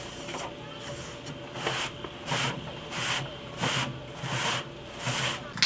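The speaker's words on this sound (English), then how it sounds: "oscillating multi-tool to get it done quickly and to smooth out some of the scratches and grooves left over from sweet, gnarly skate sessions" Oscillating multi-tool sanding a wooden skateboard deck to smooth out scratches and grooves, heard as a steady high buzzing rasp that swells in regular strokes about every half second, close and continuous with no talking.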